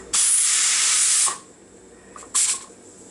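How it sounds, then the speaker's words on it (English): Steam hisses loudly from a pot in a long sustained burst, stops, then a second shorter hiss follows. "let's just see how much steam is still in this pot"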